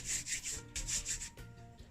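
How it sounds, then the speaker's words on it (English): Hands rub crochet faux loc braiding hair briskly, giving a close, dry scratchy friction in quick repeated bursts with short pauses between strokes. "you're going to use your hand and you want to rub it"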